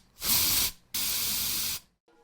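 A spray can fires in the Schedule 1 video game: two sustained bright hissing bursts, the first about half a second and the second nearly a second long, separated by a short gap and ending in near silence.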